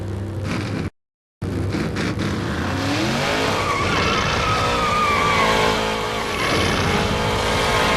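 NASCAR Busch Series stock cars roll off pit road at Kansas in 2005, a loud, continuous blend of engine roar and rising, shifting motor tones, broken by a brief silent gap near the start.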